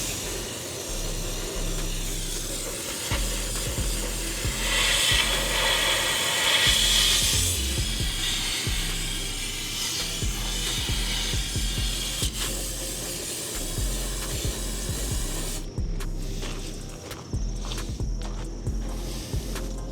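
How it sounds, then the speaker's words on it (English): An aerosol can sprays onto a power supply at a cryptocurrency mining farm, a hissing burst of a few seconds under the constant loud whir of cooling fans and machinery. "I'm gonna waste a lot of spray on this because I'm gonna send this back to being air cooled"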